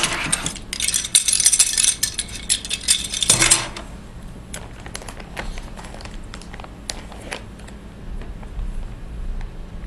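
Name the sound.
opening homemade ice cream container and handling a spoon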